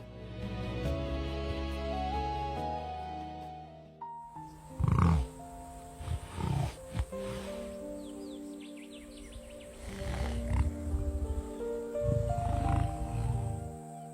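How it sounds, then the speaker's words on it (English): A lone lioness separated from her pride gives deep, rumbling growls and grunts in several bursts over a sustained musical score, with faint bird chirps mixed in. "A seasoned lioness alone, and separated from her pride."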